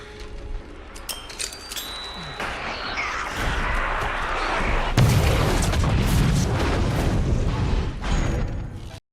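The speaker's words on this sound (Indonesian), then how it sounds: "Dia pun harus mengorbankan dirinya untuk Scott dan Coyote agar bisa sampai ke lift dengan cara meledakkan diri." A character in the film ARMY blows himself up, a loud booming blast that swells into a long rumbling roar lasting several seconds, full of debris and layered effects with no voices.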